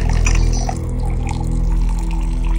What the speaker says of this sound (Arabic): خليني هودي اخلطهم بمي سخنه وارجع احط الاسبريسو فوق منهم